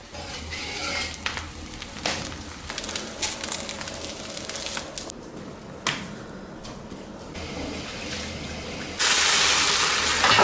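Meat sizzles and fries in a pan in a home kitchen, a steady crackling hiss with clinks and scrapes of stirring, growing into a louder burst of sizzling near the end.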